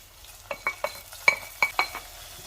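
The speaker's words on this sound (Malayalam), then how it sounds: "മുളക് ഉള്ളിയൊക്കെ നന്നായിട്ട് മൂത്തിട്ടുണ്ട്. നമുക്ക് കറിയിലേക്ക് ചേർക്കാം." Hot tempering of fried chilli and onion added to a curry gives a few quick bursts of sizzling and spattering, with light clinks of a spoon or pan, close and fairly quiet, no talking.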